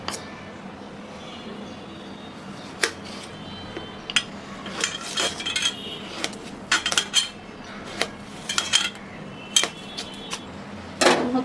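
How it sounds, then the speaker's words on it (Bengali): A knife cuts food into thin slices on a board, giving a series of sharp, irregular taps and clicks close by, sometimes in quick clusters, over a quiet background. "পাতলা পাতলা করে কেটে নেব।"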